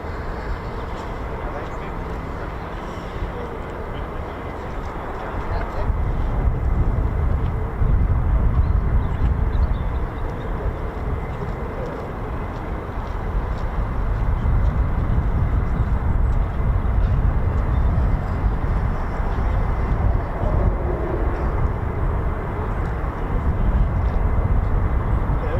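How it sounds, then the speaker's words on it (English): F-35 fighter jets flying at RAF Lakenheath make a loud, continuous jet roar that swells partway through and stays heavy to the end, with a voice talking over it. "Got more F-35s."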